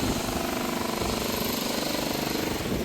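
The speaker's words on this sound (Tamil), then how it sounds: "கோயிலில் கொஞ்சம் கொஞ்சம் கட்டட வேலை நடந்து ஒன்று இருக்குது" A jackhammer pounds in a rapid, steady rhythm, continuous and fairly loud, like demolition work nearby, during building work at a Hindu temple.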